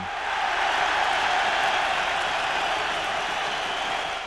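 A rugby stadium crowd waiting for the Welsh team to come out, a broad, steady murmur and roar of many voices with faint clapping, sustained evenly from start to finish.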